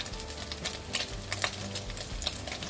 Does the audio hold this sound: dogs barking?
no